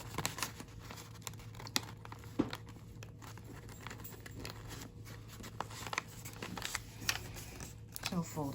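Paper being folded and creased by hand, giving a steady run of close crinkles, sharp crackles and brief snaps as the sheet is pressed flat and bent back.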